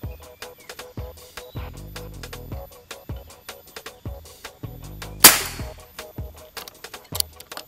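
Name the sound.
air rifle shot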